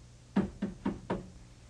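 Knocking on a door, four evenly spaced dull thuds in quick succession, moderately close but fairly quiet.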